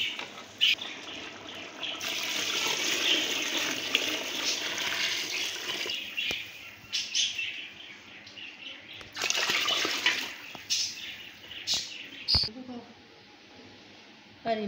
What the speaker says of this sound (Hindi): बाकी हम डालेंगे 6 किलो इसमें पानी।